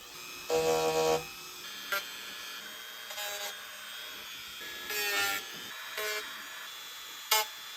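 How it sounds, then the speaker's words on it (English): A Dremel 200 rotary tool roughs up a Telecaster guitar body in short bursts, a high whining buzz that starts and stops about half a dozen times against a faint background hum. "we're going to use a Dremel 200 to rough up a couple more spots on the body"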